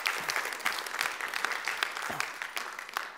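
A church congregation gives a round of applause for the volunteers who serve: dense, continuous clapping from many hands that holds steady throughout and fills the room.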